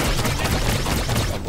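Lex's slow, heavy gunshots from the video game Paladins fire in a loud, continuous burst of weapon blasts and booms, with no voices over them.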